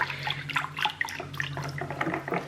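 Lye water solution poured down the inside wall of a container while making soap, giving a soft, trickling liquid sound with small splashes and drips, close up and fairly quiet.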